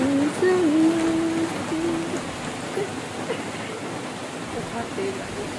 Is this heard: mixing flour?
no